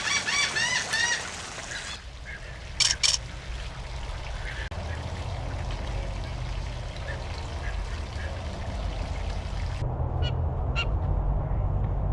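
A bird honks loudly at close range in a goose-like series of calls, first a rapid run of honks and then a few separate short bursts, set against a steady background of rushing and pouring noise.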